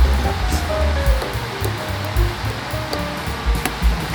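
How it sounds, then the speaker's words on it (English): Pickling juice is poured into a jar packed with green tomatoes, giving a close, steady rushing splash with uneven swells of liquid and small clinks and knocks of glass. "then I'm going to pour the juice in."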